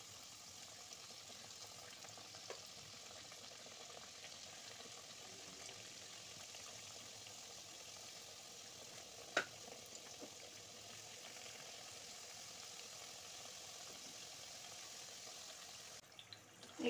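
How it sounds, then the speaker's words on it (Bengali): Tomato chips frying in hot oil, a faint, even, continuous sizzle with a couple of soft clicks. "এরকম করে করে আমি পুরো চিপসগুলো ভেজে দিয়ে তারপরে ফেরত আসছি"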